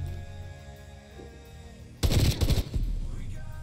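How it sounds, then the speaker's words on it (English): Burst-fire gunshots from a video game break in suddenly halfway through, several loud rapid cracks in quick clusters over a low game background hum. "Oh, it's burst fire."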